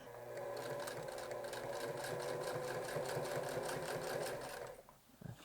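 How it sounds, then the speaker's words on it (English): A sewing machine top-stitches along the shoulder seam of a turtleneck, running in a fast, even mechanical whir for about four seconds before stopping, close but fairly quiet. "I am top stitching along the shoulder here."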